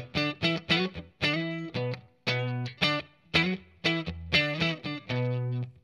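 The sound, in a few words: electric guitar through clean boost pedal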